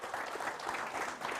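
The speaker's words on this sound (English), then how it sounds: "So please give him a warm welcome of applause." Brief applause from a forum audience welcoming a speaker: a short burst of fairly faint, steady clapping heard alone, with no voices.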